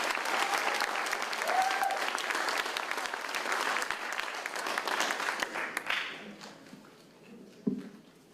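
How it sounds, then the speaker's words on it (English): An audience at an adult education graduation applauding a community band, dense clapping for about six seconds that quickly tapers off into a few scattered claps and quiet room noise. "Please give them another round of applause."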